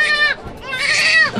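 A baby cries in short, high, wavering wails, two bursts separated by a brief breath, close and loud, with a bleating quality.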